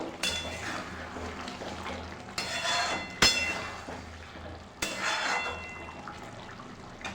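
A spoon stirs egg chilli in a pan after the lid comes off, with a few sharp metallic clanks and scrapes over a soft background sizzle.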